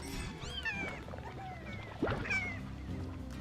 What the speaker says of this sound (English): Oh, that's the sound of a tar.